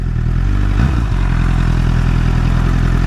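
A Honda CBR1000RR Fireblade SC59 superbike engine drones loudly and steadily in low gear while riding, a continuous close mechanical hum with a brief shift in pitch near the start.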